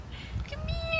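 A single short cat meow, thin and rising, heard close over faint low background noise.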